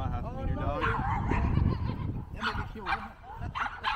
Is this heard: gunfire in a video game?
no